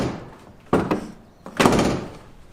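A Jeep Wrangler TJ door is worked by its handle, giving two solid thunks about a second apart, close by, with a brief rattle after the first.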